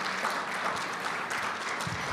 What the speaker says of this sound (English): How about a round of applause for all of our panelists?